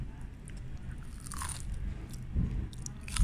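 Someone bites into crunchy tuna katsu at a Bali yellowfin tuna factory, with a crisp crunch followed by close, wet chewing and small rustles, alone without talk.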